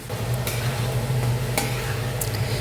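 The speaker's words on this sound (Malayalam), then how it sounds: "കണ്ട എണ്ണയുണ്ട് നന്നായിട്ട് വീണ്ടും വീണ്ടും കുറച്ച് നേരം ഇളക്കുക" Pickle ingredients are stirred in hot oil in a pan, producing a continuous close sizzle and frying hiss, broken by a few sharp ladle taps and scrapes, with no talking.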